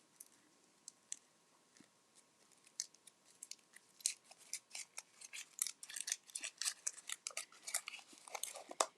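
Someone unfolds a crumpled little sheet of paper for a craft ornament, making faint dry crackles and crinkles that start sparse and grow denser and louder toward the end, heard alone without talk.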